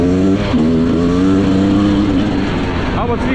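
A car engine with a bad spark plug runs rough at high revs on a rally stage, a loud close drone that wavers and sags, with voices audible over it.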